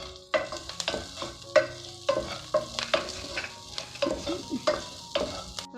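Small onions and curry leaves sautéing in a pan with repeated metal spatula scrapes and clinks over a light sizzle, loud and close in an irregular stirring rhythm.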